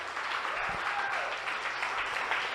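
A church congregation applauds during a celebration of the resurrection, with steady clapping filling the space at moderate level throughout and a little voice mixed in.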